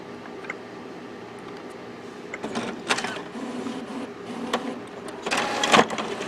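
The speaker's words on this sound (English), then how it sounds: "I'll go to maintenance. I'll see how the nozzle check is." A Brother MFC-series inkjet printer loaded with sublimation ink runs a nozzle check, giving a steady mechanical whir with intermittent clicks and louder print-head passes that grow busier toward the end, with no talking.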